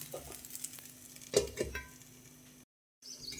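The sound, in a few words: oats beetroot dosa sizzling in ghee on a pan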